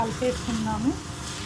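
Meal maker curry with gravy, freshly topped with coriander, stirred in a pan on the stove: soft scraping strokes over a low, steady sizzle, close and continuous without any talking.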